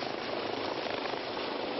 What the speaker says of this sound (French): 150 sapeurs-pompiers, un poste médical avancé et 3 hélicoptères pour évacuer les blessés les plus graves.